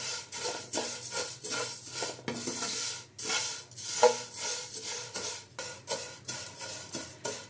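Sweet rice pudding (payesh) with vermicelli being stirred in a pot, a steady run of close scraping and clinking strokes of a utensil against the metal, repeating rhythmically without talk.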